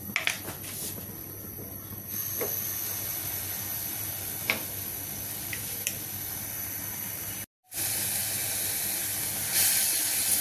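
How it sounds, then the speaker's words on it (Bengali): A blended paste of onion, garlic and green chili sautés in hot oil, giving a steady, soft hiss and sizzle with a few faint clicks throughout. "এই যে পেঁয়াজটা আমার কষানো হচ্ছে।"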